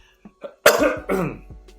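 Two short, harsh coughs close to the mic, following a couple of faint throat noises, with silence around them.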